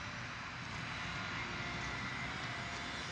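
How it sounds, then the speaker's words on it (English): A small Blue Angel RC model airplane flies steadily past, its buzzing motor drone holding constant and moderately loud for the whole stretch with no voices over it. "Aero, here comes the Blue Angel RC plane."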